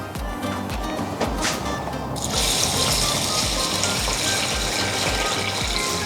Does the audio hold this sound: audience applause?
no